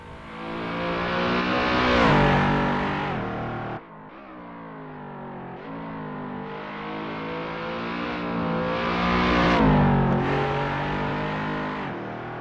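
A car engine in the racing game Assetto Corsa, driven on PC, revs loudly and continuously, pitch climbing, dropping sharply at a gear change, then rising again through the gears with no talking.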